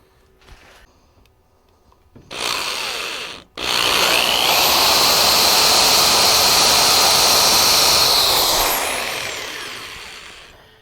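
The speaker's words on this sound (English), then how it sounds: "Now I'll go down here and drill on the other one." Holes are drilled into a wooden coin pusher build with a power drill, a brief burst and short pause followed by a long, loud, steady whine that tapers off, heard up close.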